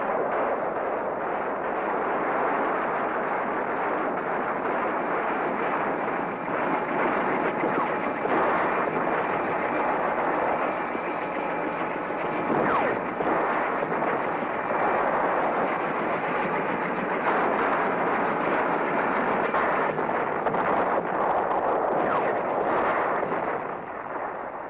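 Artillery rounds pound Khe Sanh in a dense, continuous, rumbling barrage, loud and unbroken, with no clear individual blasts and no voices.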